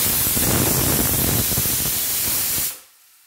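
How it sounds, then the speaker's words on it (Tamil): A pressure cooker cooking carrots lets off a loud, steady steam whistle, a continuous close hiss for nearly three seconds that then abruptly cuts out to near silence. "சீனுக்கு பக்கத்தில் கேரட் வெந்துட்டுருக்கு, அதனால் அது விசில் சத்தம் அடிக்குது."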